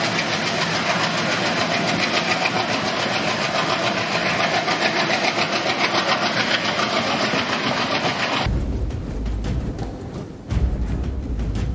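A train rumbles along steadily for several seconds with dense broadband roar, then shifts to a sparser run of rhythmic clacks and thumps near the end, with no talking.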